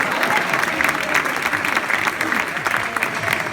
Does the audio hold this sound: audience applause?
yes